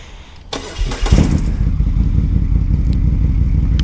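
A Moto Guzzi motorcycle with a transverse V-twin engine cranks and fires up with a clattering catch, then settles into a loud, steady, throbbing low idle close by.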